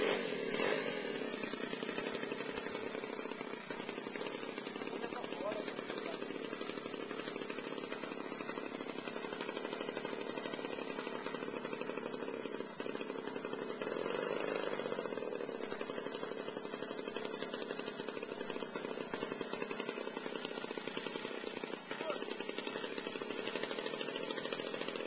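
A small glow-fuel model airplane engine runs continuously at a steady high-pitched buzz, close and loud, with no talk over it, while its needle valve is leaned out slightly.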